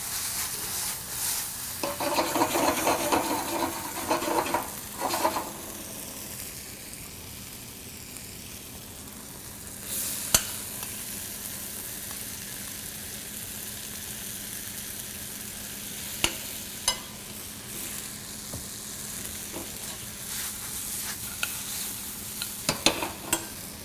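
Tomatoes seasoned with cayenne sizzle and caramelize in a pan while being stirred for a black bean flavor base, a steady close frying hiss with brief scraping bursts and occasional clicks.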